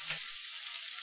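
Onions frying in butter and olive oil in a pan give a soft, steady sizzle with a brief louder burst near the start, no voices.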